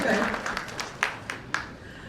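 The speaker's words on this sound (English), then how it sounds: "Let's give them a round of applause." Applause from an audience, scattered claps with a few sharper individual claps standing out, fairly moderate in volume, with crowd murmur underneath.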